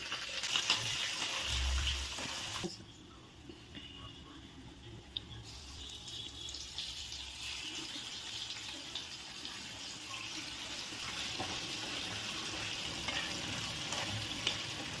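Tempering in hot oil for ridge gourd chutney with sesame and tomato, garlic and curry leaves going in, a steady close sizzle and crackle with a brief thump and a quieter patch partway through.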